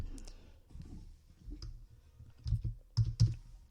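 Several sharp mouse clicks in an irregular sequence while creating a new item in a customer list, close and fairly loud against quiet room tone, no talking.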